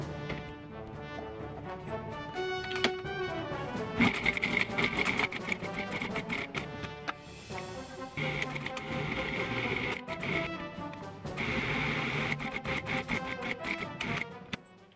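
A food processor whirs in bursts while grinding mushroom caps into a gravelly paste for beef Wellington, with a clattering, mechanical motor sound that pauses briefly between pulses.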